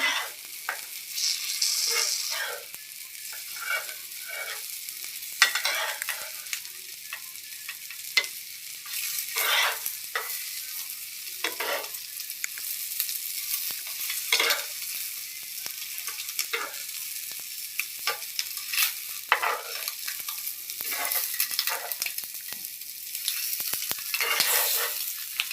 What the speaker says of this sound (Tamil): முட்டை பாருங்கள் ஃப்ரை ஆகுது